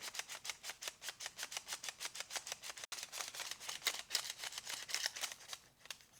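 Film being wound onto a developing tank reel with oversized film guides and bearings, a steady run of quick, crisp plastic ratchet clicks close to the microphone, evenly paced and continuing without speech.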